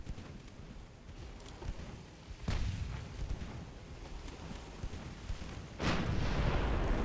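Heavy naval gunfire from Ultimate Admiral Dreadnoughts, fired by French pre-dreadnought battleships with base-fused shells. Two booming salvos stand out, one near the middle and one near the end, over a continuous low rumble of battle.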